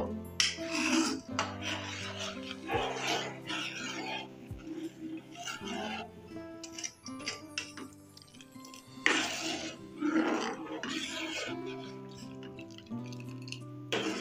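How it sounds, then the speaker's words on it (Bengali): Rice payesh with a little salt being stirred in a pot: repeated close scraping and rasping strokes against the metal, in uneven bursts, with soft clinks between them. "ভালো করে নাড়িয়ে দেব।"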